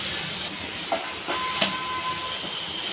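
Tomato and onion sautéing in oil, a steady hissing sizzle with a few faint clicks and a brief thin tone, fairly quiet and alone.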